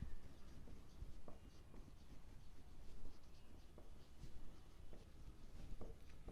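Pen writing on paper during an accounts lecture on share-issue entries makes soft, close scratching strokes in short bursts with brief taps, quiet and without talk.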